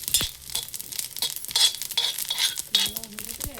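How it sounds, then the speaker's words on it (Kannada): Cumin seeds roast in a pan and are stirred, giving bursts of crackling sizzle and scraping in uneven waves, close up, with a brief tonal squeak near the end and no speech. "ಈಗ ಜೀರಿಗೆ ಹಾಕ್ಕೊಂಡು ಹುರ್ಕೊಂಡು ತಗೊಂಡ್ಬಿಡ್ತೀನಿ."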